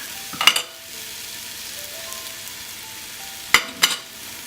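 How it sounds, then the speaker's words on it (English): Onions and garlic hit hot oil in a pan for a shrimp curry: a soft, steady sizzle broken by two pairs of close clattering utensil knocks, with no talking. "We've heated some oil in a pan, and now we are ready to add the onions"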